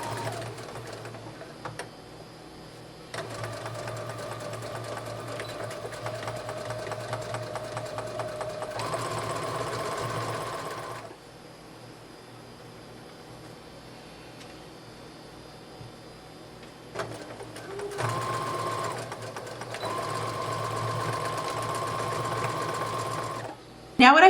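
A sewing machine stitches a seam on a colonial costume dress in two runs of rapid, even whirring, separated by a quiet pause, heard close but at a soft level.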